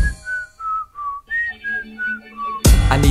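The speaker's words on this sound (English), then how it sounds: "I'm outside, can you hear me whistling?" Melodic whistling in a 2010s mixtape song, a short tune of sustained clear notes stepping up and down in phrases, alone and close, before the music kicks in loudly at the end.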